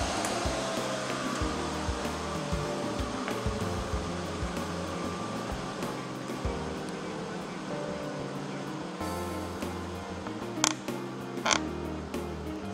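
An HP ProLiant ML310e Gen 8 server whirs steadily as its fans spin during boot-up, a loud continuous close drone with fluctuating hum and a couple of sharp clicks near the end.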